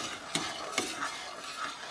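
A spoon stirs aroma hops into just-boiled beer wort in a brewing pot, giving soft swishing with two brief knocks against the pot, quiet and close with no talking.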